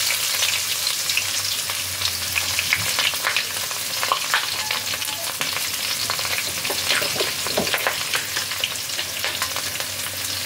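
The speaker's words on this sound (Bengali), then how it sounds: "পেঁয়াজটাকে খুব ভালোভাবে ভেজে নিতে হবে।" Chopped onions fry in oil with a pinch of salt, a steady close sizzle with faint scraping as they are stirred, no voices.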